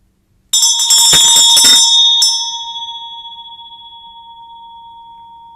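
A vajra bell is struck once during a Green Tara puja, a bright sustained ring with a brief shimmering onset, then a long, slowly fading pure tone that hangs alone in the quiet.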